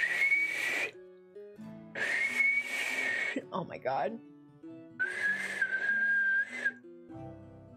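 Someone attempts to whistle, producing breathy, airy tones in three long blows with a faint pitched whistle underneath, broken by a short spoken exclamation between attempts.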